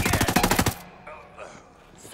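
Rapid automatic gunfire from a PC shooter game cracks out as a dense, loud burst of evenly spaced shots for under a second, then gives way to quieter game ambience and faint movement.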